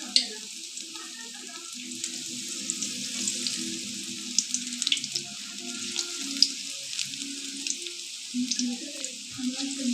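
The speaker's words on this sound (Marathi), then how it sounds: "अशा प्रकारे मी भजी सोडून घेतली होती तेलामध्ये." Onion bhaji frying in hot oil: a steady, bright crackling sizzle throughout, with faint low sounds in the background.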